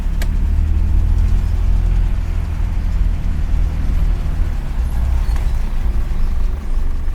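A Mitsubishi L300 with a 2.5 diesel engine runs while driving, a loud, steady low rumble with vibration, heard from inside the cab.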